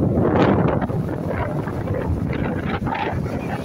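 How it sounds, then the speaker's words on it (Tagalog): Strong seaside wind buffets the microphone in loud, continuous gusts along a European coast, with a faint wash of sea waves underneath and no voices. "Mahangin."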